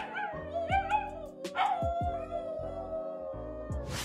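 A dog in an ambulance Halloween costume howls in long, wavering tones close by, layered over a rhythmic electronic siren-like pattern.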